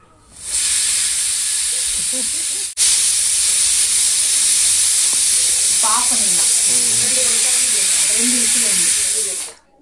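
Loud continuous hiss of steam rushing from a pressure cooker cooking chicken biryani, with a brief break partway, while a voice talks faintly beneath the rush.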